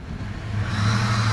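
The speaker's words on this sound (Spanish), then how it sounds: "Ese ruido que oyen es porque no trae su filtro de aire." A 1997 Dodge Caravan engine idles and runs with its air filter removed, a steady close mechanical drone with a low hum that swells louder partway through.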